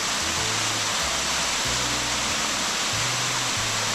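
A waterfall roars beside a campsite on North Vancouver Island, a loud, steady, unbroken rush of falling water close by, with no voices.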